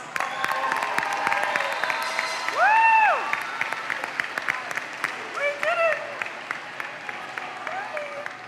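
Audience applause for graduates at a 2024 high school graduation ceremony, steady clapping filling the hall for several seconds, with a brief whoop and scattered voices rising through it.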